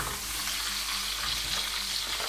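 Cuttlefish hits hot oil with softened onion in a paella pan, producing a dense, steady, close frying hiss with faint stirring underneath and no talk.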